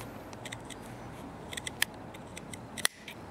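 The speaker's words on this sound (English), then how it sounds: "If you do have a little bit of bulk, which you can reduce, just snip that off" Scissors snip off excess denim bulk at a jeans hem, a few light, sharp clicks spread across quiet room tone, with one louder, crisper cut near the end.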